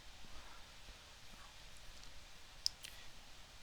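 A computer mouse clicks a few times, faint and sparse, over quiet room hiss. One click is slightly sharper than the rest.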